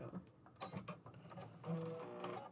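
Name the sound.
sewing machine running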